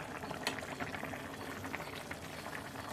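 Water in a pot of chicken biryani bubbles and simmers during cooking, a soft close continuous burble with small popping bursts, fairly quiet and without talk.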